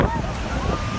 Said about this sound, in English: the waves topple tourists on an Icelandic beach